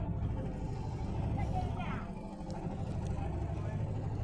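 A boat on the Jamuna river at Sirajganj, its motor giving a faint, steady low hum throughout, with a voice speaking over it.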